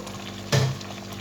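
Okra dropped into a pot of hot palm oil for Nigerian okro soup with tilapia gives a sudden loud sizzle that fades over a few moments against a low steady background.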